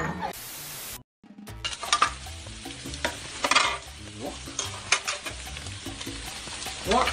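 Food sizzles and crackles loudly in a frying pan, a dense hissing spatter with sharp pops, briefly cut off by a moment of silence before the frying noise resumes and continues unevenly.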